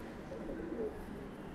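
A Punjabi female pigeon kept for sale gives a soft, low, brief coo, faint and close against a quiet background.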